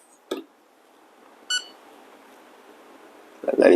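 Two short electronic beeps, then a louder beep burst near the end, with a quiet background hum between them.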